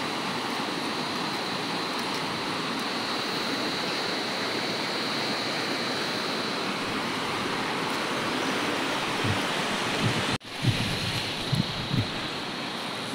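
Steady rushing water from a river near Changi fills the clip, a broad continuous roar that holds level throughout, with a brief dropout late on and a few low thumps after it.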